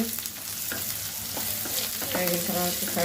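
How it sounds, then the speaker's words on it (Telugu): Pieces of bitter gourd (kakarakaya) fry in oil, a close bubbling sizzle punctuated by several clinking, scraping stirs of a utensil against the pan. "ఇలా కాకరకాయ ముక్కలు వేసుకున్నాం. ఇలా చక్కగా ఇలా వేయించాలండి."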